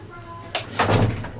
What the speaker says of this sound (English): I'll just close my door here.